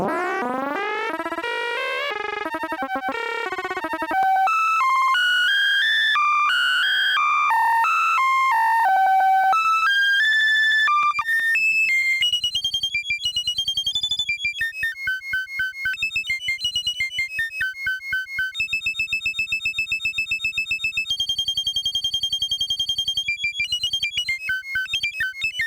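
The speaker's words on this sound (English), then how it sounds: "I'm going to turn up the speed again on the loop." Granular synthesizer looping tiny grains of sound as the loop speed is raised, starting as swooping bright pitched tones and turning into rapid, buzzy, stuttering electronic repetitions that grow faster and denser, loud and steady with no voices.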